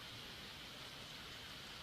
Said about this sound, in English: Raindrops pattered against the leaves